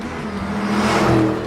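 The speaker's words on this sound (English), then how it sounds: "He jumped into his car and sped off on a predetermined route." A car speeds away, its engine rising in a steady revving whir that grows louder over a second and a half with no voices over it.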